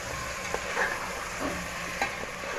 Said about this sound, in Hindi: अब इसमें हम डाल देंगे गोश्त।